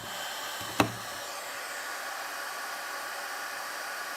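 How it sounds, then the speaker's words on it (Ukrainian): A 500 W fan heater runs with a steady broadband airflow hiss that holds at an even level throughout, broken by one short sharp knock or click near the start. "Калорифер 500 Вт."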